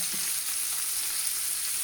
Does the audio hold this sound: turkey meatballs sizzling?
yes